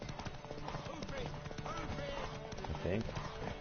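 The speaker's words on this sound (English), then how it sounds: "Horse is better than Roach." Horse hooves clip-clop in a quick galloping rhythm beneath talking and background game sounds from The Witcher 3.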